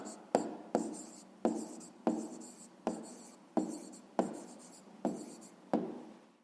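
Pen strokes of handwriting an answer to a fifth-grade maths exercise on the areas of a square and rectangle, about nine short scratchy strokes in a steady rhythm, close and clear with no talk.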